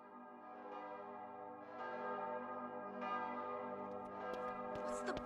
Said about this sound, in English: Malcolm, Banquo, ring the bell!